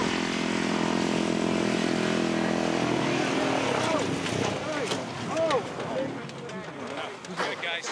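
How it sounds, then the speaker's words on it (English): A motocross motorcycle rides over loose dirt in Iceland, its engine and wind roar steady at first, then breaking into rougher, uneven bursts as the bike goes down. "He dumped the bike, but he was in full control of the situation"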